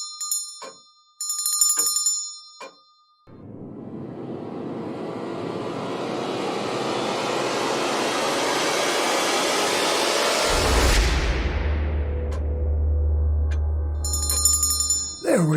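A small bell rings in quick, bright jingles at the start and end, while a loud whooshing, rising hum dominates the long middle stretch.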